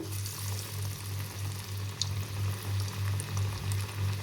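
Sweet corn vadas frying in hot oil, a steady bubbling sizzle with a low rhythmic pulsing hum, close and even throughout with no talking.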